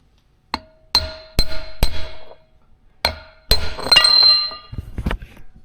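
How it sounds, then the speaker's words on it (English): A socket struck with a hammer to drive a seal into a bearing in a garage, several sharp ringing metallic clinks spaced apart, loud and close, followed by rattling handling noise. "we got a socket about the right size, and we're going to give that a smack."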